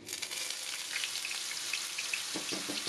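Ground spice paste of candlenut, shallots, garlic, coriander, pepper and red chilies sautéing for beef rendang, a dense, even sizzle and crackle of frying close by, with a few stirring scrapes near the end.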